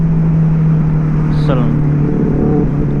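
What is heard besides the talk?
Benelli 600i motorcycle exhaust while riding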